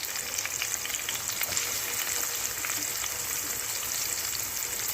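A large chopped onion fries in oil in a pan for a dondakai (ivy gourd) fry with dry chili powder, a steady, soft crackling sizzle that continues evenly throughout.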